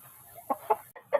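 A rooster on a farm gives a few short, faint clucking calls in broken bursts, heard alone against a quiet background.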